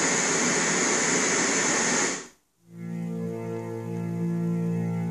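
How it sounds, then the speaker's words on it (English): Steady, dense white noise from an Ecotones sound and sleep machine fills the first two seconds loudly, then cuts out briefly before a softer, humming next sound begins. "This is white noise."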